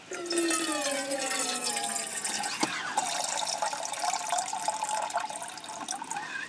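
Water gushing from a small hand pump on a 5-gallon water container in a converted van, a bubbling, splashing stream with rising pitch as the vessel fills, steady and close.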